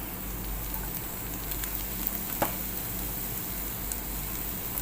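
Mashed boiled potatoes sautéing in a pan on a tawa for veg potato tacos, a steady low sizzle and crackle with a few soft clicks and scrapes, no voices.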